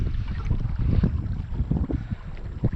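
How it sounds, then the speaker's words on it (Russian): Wind gusts buffet the microphone on a fishing boat stalled on open water as a storm cloud approaches, making a low, fluctuating, close roar with no voices. "Туча надвигается, ветер поднимается."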